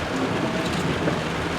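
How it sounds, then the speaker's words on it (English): Heavy rain pours steadily at a nature reserve on safari, a dense continuous hiss and patter filling the short stretch, close and fairly loud with no talk. "it's raining cats and dogs"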